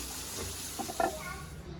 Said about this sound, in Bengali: এখন ভালোভাবে ভেজে নেব শুকনো মরিচগুলো